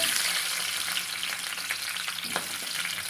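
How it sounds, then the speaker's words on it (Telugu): Slit green chillies fry in hot oil in a pan, a steady loud sizzle and crackle with faint stirring clicks, no voices. "ఇప్పుడు ఇది నూనెలో అటు ఇటు ఫ్రై చేసుకుందాము."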